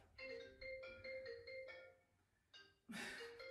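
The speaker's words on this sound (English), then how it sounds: "My phone is ringing." A mobile phone rings during a core and glute strength training workout, its repeating electronic ringtone tones sounding in several bursts, fairly faint, followed by a louder brief noise at the end.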